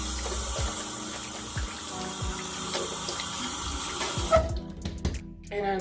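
Water runs steadily from a tap into a sink during face rinsing, a continuous close splashing stream that breaks into irregular splashes and trickles near the end as hands move through it.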